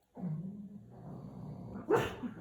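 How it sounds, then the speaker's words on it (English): A pet dog, a female, gives a couple of close barks indoors: a lower drawn-out woofing sound followed by a sharper, louder bark near the end. "That's my dog."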